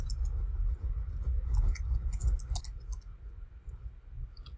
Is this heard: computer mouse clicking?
yes